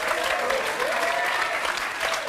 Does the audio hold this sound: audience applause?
yes